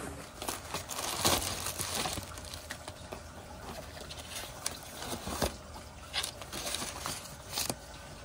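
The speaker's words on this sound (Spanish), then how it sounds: "vamos a abrir juntos esta caja de donde me vino las monedas de Celia Cruz" A box holding 100 Celia Cruz 25-cent coins is handled and opened, giving close, intermittent crinkling and rustling of packaging with scattered small taps and scrapes over about eight seconds, no talking.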